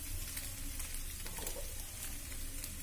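Food frying and being stirred in a pan in a home kitchen, a faint, continuous crackling sizzle with soft scraping, steady throughout and without voices.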